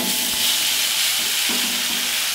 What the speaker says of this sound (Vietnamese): Rồi bây giờ là mình sẽ xào, xào cho nó nóng lên.